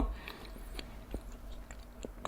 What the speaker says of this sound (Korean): 일부러 떡을 더 쫀득쫀득하게 씹어봐